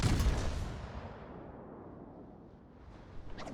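Heavy naval guns of the American battleship Maine firing at an enemy ship in World of Warships: a loud, close boom at the start that rumbles away, then a fainter crack near the end.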